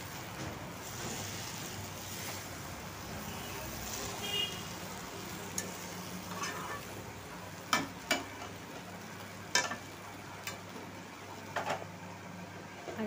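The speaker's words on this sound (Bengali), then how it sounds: "বাঁধাকপিটা সাদা জিরা ফোড়ন দিয়ে আর কি মশলাটা দিয়ে ভালো করে একটু কষিয়ে নিই" Cabbage frying in a pan with a cumin tempering and spices, a soft steady sizzle close by, broken by a few sharp clicks and scrapes.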